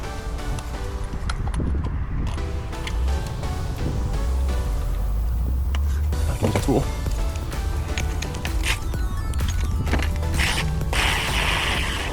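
Ratchet working on the 14mm starter bolts of a 2013-2017 Honda Accord V6 gives repeated clicking bursts amid clanks and handling of metal parts, close and moderately loud, with a voice speaking now and then.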